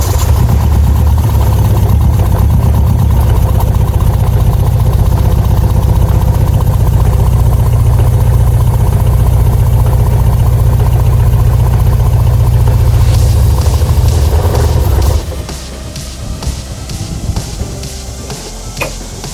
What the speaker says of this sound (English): turn the key now, and it's gonna fire up